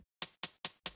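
A clean, unprocessed electronic hi-hat plays four short, bright, crisp hits at an even pace, each decaying quickly into silence, heard alone.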